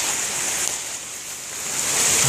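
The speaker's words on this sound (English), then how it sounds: "It's pouring." Heavy winter rain pours outdoors, a dense, steady hiss filling the air from close by, with no voices.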